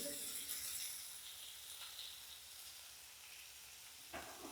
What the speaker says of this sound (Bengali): এবার এটা একটু নাড়তে থাকবো।